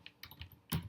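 Code being typed on a computer keyboard during a Python strings lesson, a quick, faint run of a few key clicks ending in one firmer tap.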